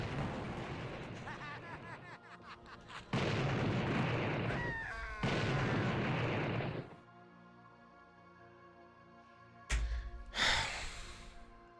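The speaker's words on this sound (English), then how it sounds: "I forgot about everything else exploding." Explosions in a Doom mod of the video game, heard as loud booming bursts in several blocks with a quieter stretch between and a sharp final blast near the end.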